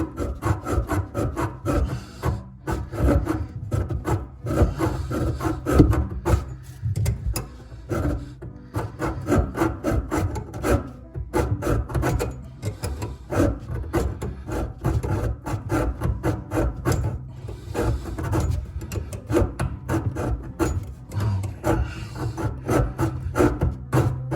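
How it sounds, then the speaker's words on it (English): A mini hacksaw cuts through a deformed plumbing fitting on an angle stop, a continuous close rasping scrape of rapid back-and-forth strokes with no talking. "take a mini hacksaw and we're gonna have to just try to cut that deformity off of there and get it hooked up"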